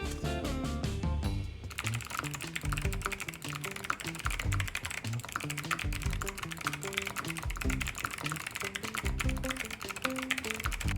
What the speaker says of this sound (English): From the typing sound test, you can feel that the new internal materials in the Azoth X